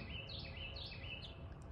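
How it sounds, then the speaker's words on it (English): Outdoor birds tweeting, a few faint, high repeated chirps floating over a quiet hiss of background noise. "listen to the birds tweeting, soothes your nervous system"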